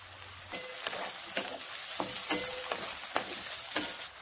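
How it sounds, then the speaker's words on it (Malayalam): Onions frying in hot coconut oil make a bright, close sizzle, punctuated by a series of sharp utensil clicks and scrapes roughly every half second as they are stirred, no talk. "എണ്ണ ചൂടായിട്ടുണ്ട്, ഉള്ളി ഇട്ട് കൊടുക്കാം."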